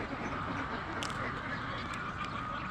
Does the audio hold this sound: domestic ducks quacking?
yes